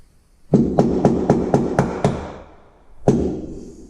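Sharp hammer blows ring out close by, a rapid run of about seven evenly spaced strikes, then a pause and one more hit, while fitting boot struts on a BMW.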